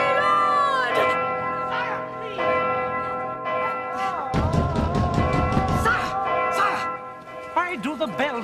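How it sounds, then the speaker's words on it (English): Church bells ring in a resonant, overlapping peal with long sustained tones, heard alongside voices speaking over them. "Why do the bells ring?"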